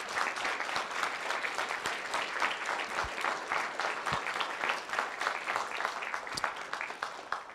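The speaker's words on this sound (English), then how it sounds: "Let's all give one big final round of applause for our debaters." Audience applause filling a university hall at the close of a debate on Christian nationalism, dense, steady clapping from a large crowd sustained throughout without a break.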